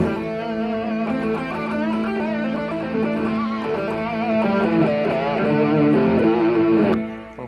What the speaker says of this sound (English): The pentatonic scale is going to sound like this.